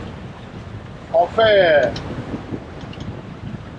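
A sailboat at sea motors along at 1500 rpm in a strong 22-23 knot wind, its low rumble mostly buried under steady wind noise, while a person briefly speaks close by.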